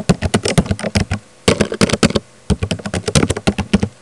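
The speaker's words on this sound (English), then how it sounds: "I press enter, type tab, and then proceed to type the rest of mine" Fingers typing on a computer keyboard: quick, crisp key clicks in short rapid runs, with brief pauses between bursts, close and clear, with no talking.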